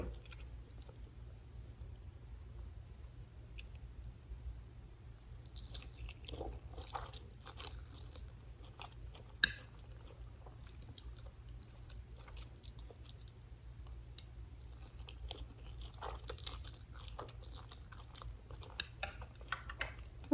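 Spicy favourite Thai food is chewed close to the mic, with soft wet crunches and occasional clicks repeating steadily over a quiet, faintly humming room.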